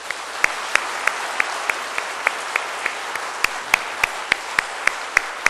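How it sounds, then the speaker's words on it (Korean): A church congregation applauding the choir during a Sunday service in a steady wash, with a few hands beating a sharp, regular rhythmic clap through it. "우리 성가대 힘내라고 이쪽 성가대 바라보면서 한번 박수로 격려해 주십시오."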